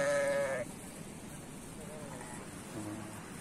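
Lambs about three months old, offspring of a ram, bleat in a livestock setting. A loud, clear harmonic bleat opens the clip and lasts about half a second, followed by fainter animal sounds and background noise, with no speech heard.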